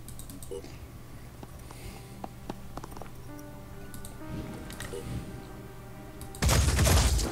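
Gunfire from the video game Phoenix Point rings out as scattered shots over a low game hum, ending in a loud, dense burst of fire.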